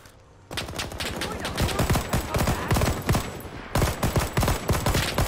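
Rifle gunfire in the video game Rising Storm 2, fired by an ARVN soldier: a rapid string of sharp, loud shots starting after a brief quiet moment, with a short pause partway through before firing resumes.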